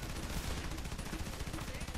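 A dense, rapid burst of gunfire in the video game Frontlines: Fuel of War rattles continuously, loud and noisy, with no pauses.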